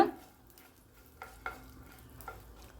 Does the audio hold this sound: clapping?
no